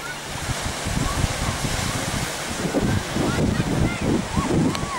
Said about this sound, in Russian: А вот тут городской пляж.